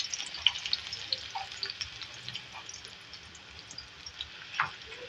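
Medium-size onions frying in oil in a pot, a steady soft sizzle with light crackles throughout, fairly quiet and with no talking.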